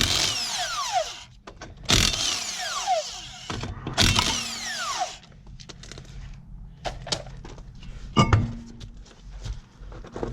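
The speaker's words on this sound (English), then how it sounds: "there's the real lug nuts. Take the 3/4 and remove them." Lug nuts being loosened from a Chevy Cobalt wheel with a 3/4 socket during a brake pad job: sharp ratcheting bursts and metallic clinks come in short separate spells, close and fairly loud, with no talking.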